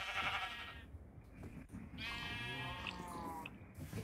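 Sheep in the video game Minecraft bleat in a few quavering calls, fairly close and clear over a low background, with no talk.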